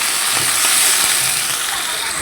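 Chopped onions hit hot oil alongside fried fish, giving a loud, steady sizzling hiss that holds evenly throughout.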